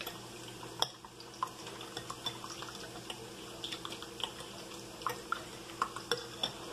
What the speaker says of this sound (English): Beat up these eggs.